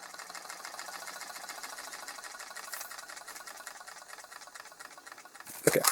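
A Kamen Rider DX Gotchartornado toy spins with a steady fast whirring buzz like a small motor, fairly faint and close, ending with a brief handling clatter.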